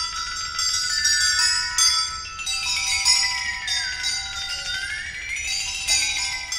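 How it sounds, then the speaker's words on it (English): Metallophone stating the fugue subject in Harrison's Fugue for Percussion, a bright ringing melodic line of struck metal tones with long sustain and gliding resonances, loud and alone. "The piece begins with the introduction of the subject by the metallophone"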